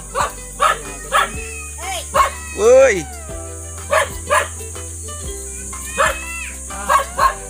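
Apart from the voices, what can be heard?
dogs barking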